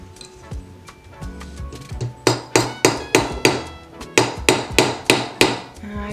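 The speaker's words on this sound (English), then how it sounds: "go in with my hammer and flatten the middle part out a little bit more" A hand hammer strikes a metal wedding band to flatten it, a series of sharp metallic blows in steady rhythm, close and loud, in two bursts of about seven hits each after some quieter tapping.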